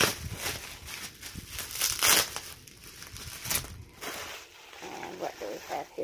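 Bubble-wrapped package being unwrapped, giving close, irregular bursts of crinkling and crackling plastic with a few brief louder rustles.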